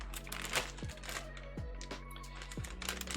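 Mechanical switches clicking into a plate on a Geon F18x V2 custom keyboard build: a handful of sharp, close plastic snaps spaced about a second apart over a quiet background hum.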